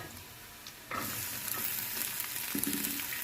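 Onions dropped into a pan where garlic is already frying, with a sudden burst of sizzling about a second in that then holds steady with light stirring scrapes, close and moderately loud with no talk.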